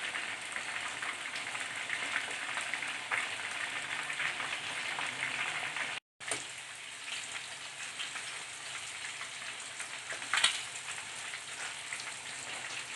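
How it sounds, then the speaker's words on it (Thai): Pork belly deep-fries in oil, a dense continuous sizzle like steady rain with faint crackles, heard close and steady throughout with a brief dropout midway and a louder bubbling burst near the end, no talking. "ก็ทอดให้เหลืองประมาณนี้เลยนะคะ"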